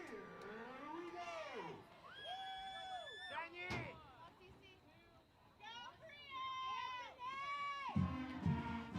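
Elementary school children chant cheers in unison at the Berlin vs. Wethersfield football game, high voices rising and falling in rhythmic phrases with a crowd murmuring behind them.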